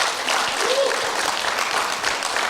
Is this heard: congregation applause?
yes